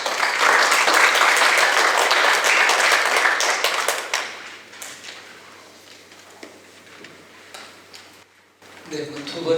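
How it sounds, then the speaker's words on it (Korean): An audience at a panel discussion applauds after a presentation, a loud sustained burst of many hands clapping that thins out to scattered claps before a voice begins to speak. "일단 박수 한번 더 쳐주시기 바랍니다"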